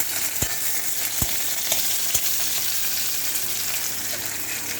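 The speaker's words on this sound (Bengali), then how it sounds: "পেঁয়াজটা, একটু রসুন, তেজপাতা, লাল ভাজা ভাজা হলে পরে" Onion, garlic and bay leaf fry in a pan with a loud, steady sizzle, broken by a few sharp clicks from stirring against the pan.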